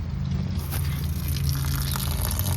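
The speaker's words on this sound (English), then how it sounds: "you can see that water is draining out of the Truma water heater." Water drains out of a Truma Combi water heater in an RV through an opened valve, giving a steady, close rushing gush over a low hum.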